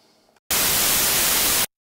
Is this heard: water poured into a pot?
no